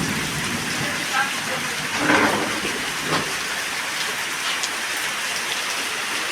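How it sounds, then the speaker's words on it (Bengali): Heavy rain in Bangladesh pouring down steadily, a dense close hiss of drops on surfaces, with a few brief louder spatters. "মনে হচ্ছে না এখন বৃষ্টি থামবো, আবার নামতেছে জোরে।"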